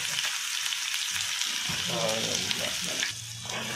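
Onions sizzle steadily in a hot pan with spices such as cloves, coriander seed and cardamom, a dense, close frying hiss broken by a few stirring scrapes and clinks, with no talking.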